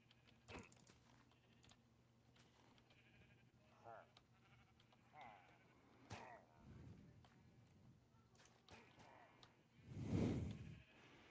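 Minecraft sheep give a short blocky bleat near the end, loud and close, following scattered faint game clicks and quiet clatter.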